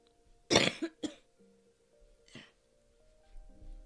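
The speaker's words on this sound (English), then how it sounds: "I will do my best to mute when I feel a bad cough come." Two sharp coughs close together, followed by a softer third cough a moment later, in an otherwise quiet room.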